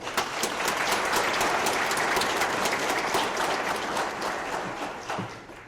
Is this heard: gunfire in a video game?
no